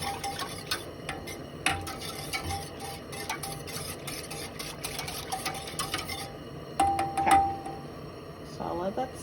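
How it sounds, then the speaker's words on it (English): Sugar syrup being stirred in a pot over high heat for a Turkish semolina cake, light repeated clinks and scrapes of a utensil against the pot under faint background talk, with a brief louder clatter near the end. "just stir, make sure the sugar doesn't stick to the bottom"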